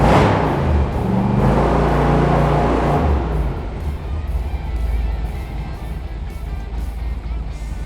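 A red 1965 Chevrolet Corvette with a 460 hp big-block V8 idling close by, starting with a loud throaty rumble and a few revs before settling into a steady lower burble.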